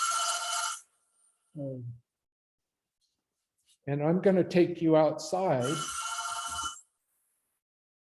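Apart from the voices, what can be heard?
telephone ringing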